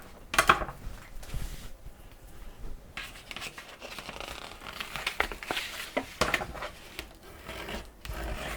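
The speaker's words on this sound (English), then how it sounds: "We're just going to fold them all in one direction." Scored paper craft pieces for a large haunted house model being creased and folded by hand, giving a series of close crinkling, rubbing and soft crackling sounds with sharper creases scattered irregularly throughout.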